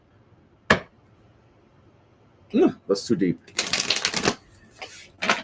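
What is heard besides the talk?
shuffling oracle cards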